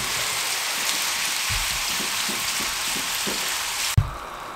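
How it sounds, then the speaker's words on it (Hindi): Chicken shallow frying in oil crackles with a dense, steady sizzle close up, with a few soft stirring thumps partway through and a sharp clatter near the end; no one talks. "इसको हम शैलो फ्राई करेंगे।"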